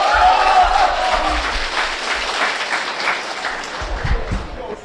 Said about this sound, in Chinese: 感谢您的掌声鼓励